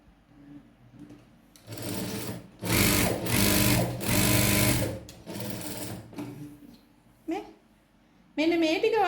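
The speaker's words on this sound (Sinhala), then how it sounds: "මෙන්න මේ ටික ඔයා මහන්න පුරුදු වෙන්න" A sewing machine runs in short bursts as it stitches along a thread line, loud and close, with pauses between runs and someone speaking softly around it.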